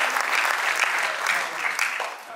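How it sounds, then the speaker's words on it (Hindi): Audience applause at a Hindi-Urdu youth poetry gathering (kavi sammelan), a steady dense wash of clapping hands lasting the whole moment, fairly loud and close with a few audience voices mixed in. "जोरदार तालियां प्रीतम भाई,"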